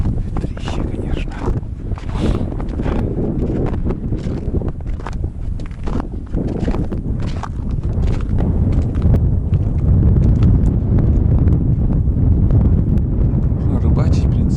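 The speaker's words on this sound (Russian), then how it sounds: "Ветрище, конечно." Strong wind roars across an open spot in the taiga, buffeting the microphone with a heavy, continuous low rumble that grows louder and more constant toward the end, with sharp gusty bursts throughout.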